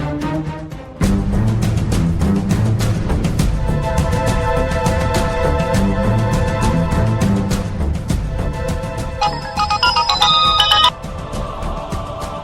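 A melodic phone ringtone plays loudly and continuously, a repeating electronic tune with a brighter chiming layer near the end.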